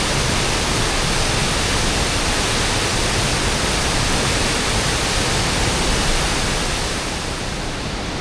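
A roaring waterfall at Naeyeonsan pours as a dense, loud, unbroken rush of white noise, steady throughout with no other sounds.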